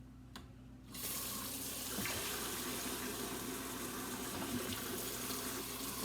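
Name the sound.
water running from kitchen tap into sink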